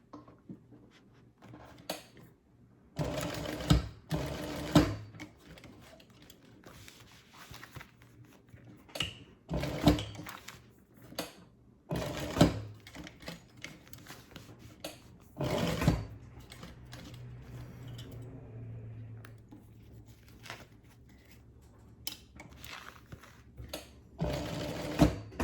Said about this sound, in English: Go ahead and get to stitching.